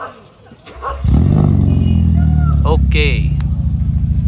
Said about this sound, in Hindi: गाड़ी का एग्जॉस्ट का रिस्पॉन्स तो थोड़ा सुना देते हैं आपको